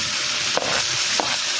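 Tomatoes sauté in a pan with butter, garlic and onion, giving a loud, steady sizzle with two brief clacks of stirring, close up and without talk.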